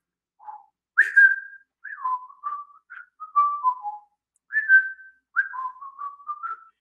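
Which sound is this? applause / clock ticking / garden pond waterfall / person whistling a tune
person whistling a tune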